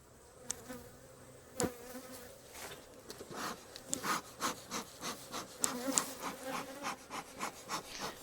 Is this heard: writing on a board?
no